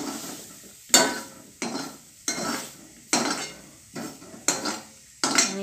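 Fried onion being lifted out of a pan while cooking chana bhaji: a steady series of about seven sharp metal spoon scrapes and clinks against the pan, evenly spaced and close, with faint sizzling between strikes and no talk.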